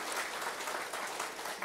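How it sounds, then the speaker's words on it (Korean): A church congregation applauds during a Thanksgiving Sunday service, a steady wash of many hands clapping at moderate distance, brief and without voices. "우리 하나님께 영광의 박수 올려드릴까요?"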